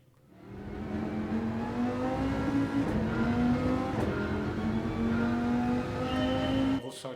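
A race car engine in Gran Turismo 7 climbs from quiet into a loud, sustained drone, its pitch rising and shifting through gear changes across a lap before cutting off near the end.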